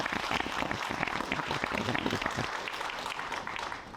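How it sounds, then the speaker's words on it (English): A room full of people at a first-year radiography pledge ceremony gives a steady, dense round of applause, with many hands clapping together loudly and evenly before the clapping tapers off slightly near the end. "I think we can give them another round of applause."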